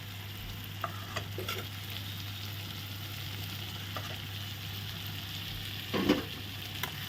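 Spices and ground peanut paste being stirred in a frying pan, a soft steady sizzle with occasional spatula scrapes and a brief louder clatter near the end, under a faint low hum.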